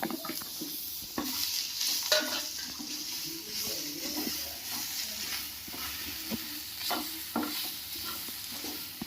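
Curry leaves with coconut and tamarind sauté in a pan for curry leaf chutney, a moderate steady sizzle with intermittent stirring clicks and scrapes.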